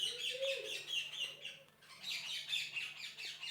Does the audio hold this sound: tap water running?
no